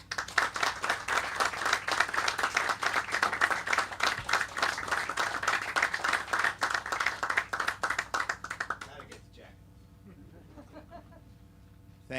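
Sustained applause from an indoor audience at a book talk greeting author John Feinstein, dense steady clapping for about nine seconds that thins to a few scattered claps and then fades into quiet room tone.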